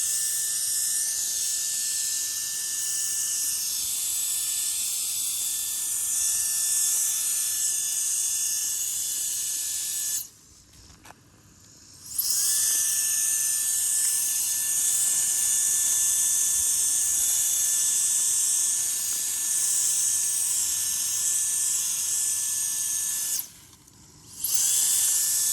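A brushless electric air duster with a swapped-on nozzle blasts a loud, steady high-pitched whine and rush of air, cutting out briefly twice before resuming at full power.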